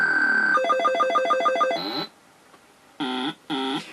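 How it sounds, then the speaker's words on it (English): Chiptune beeps from a ZX Spectrum 48K Formula One game: a steady buzzer tone, then a rapid warbling run of square-wave notes, a high blip, a pause, and two short chirping buzzer bursts, loud and electronic with no voices. "it was obviously the wee buzzer sound"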